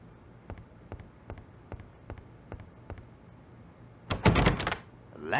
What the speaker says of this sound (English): The door, it is locked tight.